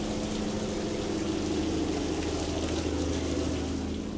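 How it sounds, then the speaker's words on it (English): Steady rain patters continuously with a dense hiss aboard a cargo ship in the jungle, joined by a low constant rumble like an engine or machinery underneath. "Still raining out"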